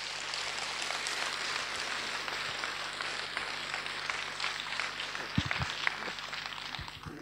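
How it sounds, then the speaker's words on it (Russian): Applause from a conference audience, a dense, even wash of many hands clapping at moderate distance, with a few sharper thumps toward the end. "Под ваши бурные аплодисменты"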